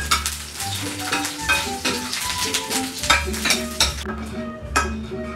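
Onions go into a hot pan while cooking cabbage with chicken and squid, and they sizzle and fry steadily. Stirring scrapes and utensil clinks come through up close, with no voices.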